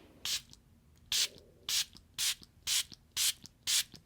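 A Dollar Tree makeup setting spray sprays seven short, crisp hisses in a steady, evenly spaced rhythm, each burst close and clear with nothing else around.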